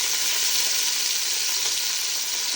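Raisins frying in a hot pan after cashews, a steady bright sizzle held at an even level, close and continuous, with no voices over it.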